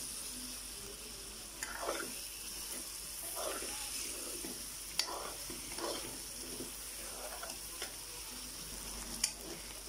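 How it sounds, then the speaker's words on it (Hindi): Chicken and onion fry in a karahi with a faint, steady sizzle. Soft stirring scrapes and occasional light clinks recur every second or two. "अब हम चिकन और प्याज दोनों को फ्राई करेंगे, तब तक जब तक हमारा चिकन और प्याज ब्राउन ना हो जाए।"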